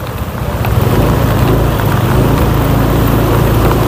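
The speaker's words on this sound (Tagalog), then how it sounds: "lakas pa rin ang ulan dito" Heavy rain drums steadily while riding through slow traffic, with wind rush and a low vehicle rumble under it. The noise is loud and continuous, swelling in after the first half second.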